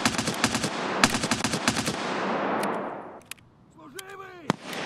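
Rapid automatic gunfire in Escape from Tarkov, using PP ammunition, comes in tight bursts that give way to a few sharp single shots and a brief electronic sweep, with a faint voice in the background.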